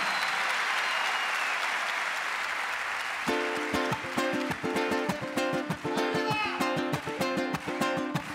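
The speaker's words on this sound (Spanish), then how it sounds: "¡Fuerte el aplauso!" Concert audience applause fills the hall for the first three seconds, then rhythmic clapping and music with bright harmonic tones join in, the applause continuing loudly underneath.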